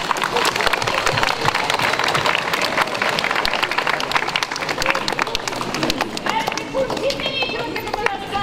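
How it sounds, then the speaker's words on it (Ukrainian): Loud, steady applause from a crowd at a first-year students' welcome ceremony on the first day of school, dense clapping sustained throughout with speech mixed in. "Давайте привітаємо їх гучними оплесками."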